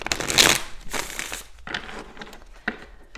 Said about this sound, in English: I'm going to shuffle on camera